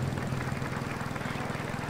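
A mini helicopters ride in the game Roller Coaster Tycoon 2 gives a steady, fluttering rotor drone at moderate volume, running throughout with a faint voice partly beneath it.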